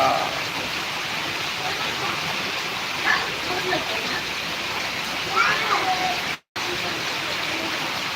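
Heavy monsoon rain pours down in Karnataka during extreme rainfall, with running water. It makes a dense, steady hiss that fills the whole stretch, broken by one brief dropout near the end.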